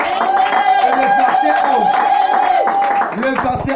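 Church congregation clapping and shouting acclamations together, steady rhythmic claps under loud voices with a sustained tonal drone, crowded and close.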